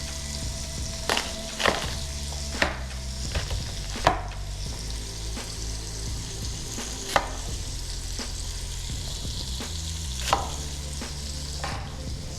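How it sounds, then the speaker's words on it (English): Onions sautéing with bacon in an Instant Pot give a steady close sizzle, broken by sharp scrapes and clinks of a utensil stirring the pot at irregular intervals, with no talking. "We're gonna let those onions cook for just a minute while we chop up our cabbage."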